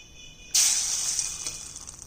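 Hot oil in a pan suddenly erupts into a bright, hissing sizzle as salt and shrimp go in, loud at first and then settling into a steady crackle.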